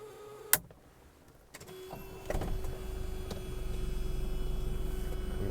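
A 1977 Mercedes-Benz W123 240D diesel cranks after a glow-plug pause and catches, settling into a steady, rough diesel clatter close by with a constant hum running underneath.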